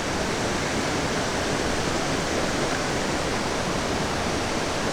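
Fast-falling water of a waterfall roars steadily and loudly, a dense unbroken rush that stays constant throughout.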